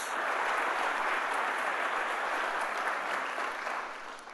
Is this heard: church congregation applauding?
yes